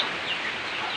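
A mother hen used to brood hatched wild junglefowl chicks clucks softly and repeatedly at close range in a rural yard, with no talk over it.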